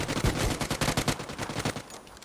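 A rapid burst of automatic fire from an Uzi in PUBG, close and loud, a dense string of shots rattling off before tapering toward the end.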